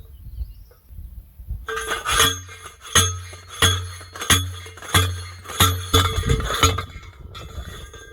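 A manual post driver strikes a steel fence post for a pasture fence, about eight ringing metallic blows in a steady rhythm, each roughly half a second apart, loud and close, then stopping.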